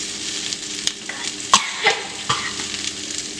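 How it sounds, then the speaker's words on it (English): Peruvian squash stew being stirred in a frying pan, a steady low sizzle broken by a few sharp scrapes and clinks of the spoon, close and fairly quiet, no voices. "stir that up really well"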